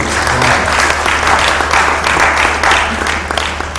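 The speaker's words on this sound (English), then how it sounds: "One round of applause, please." An audience at the Ghana Internet Governance Forum 2015 applauds steadily, many hands clapping together in a loud, sustained burst.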